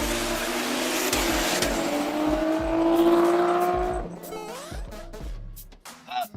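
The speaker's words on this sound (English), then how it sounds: "giving us those crispy RB20 noises is that custom green stainless exhaust" A Nissan RB20 straight-six revs hard through a custom green stainless exhaust, a loud raspy drone that climbs and then drops off, followed by quieter idle burbles and scattered mechanical clicks.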